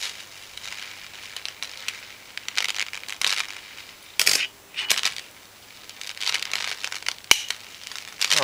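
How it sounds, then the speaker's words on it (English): Cathode-ray tube glass cracking while a water-filled CRT is broken apart, heard as sharp crackles, snaps and crinkling bursts, close and fairly loud, with one sudden hard crack near the end. "Oh, I cracked the glass."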